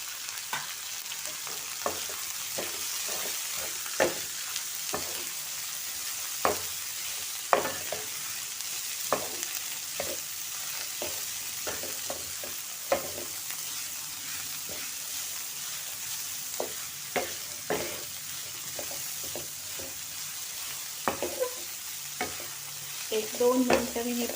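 Cabbage and beetroot sautéing in a pan for tawa pulao, a soft steady sizzle broken by frequent sharp scrapes and taps of the spatula, close and fairly quiet, with no voices.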